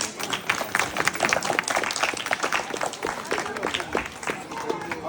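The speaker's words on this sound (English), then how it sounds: "Clapping." Clapping from an audience at a children's drawing prize-giving, a dense, uneven patter of many hands with sharp individual claps standing out, voices mixed in underneath.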